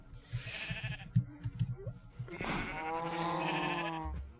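Sheep bleat twice in a farm pen, first a short rough call and then a longer, clear wavering bleat, fairly close and alone against faint background noise.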